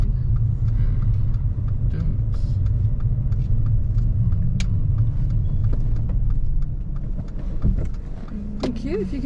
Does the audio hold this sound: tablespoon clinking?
no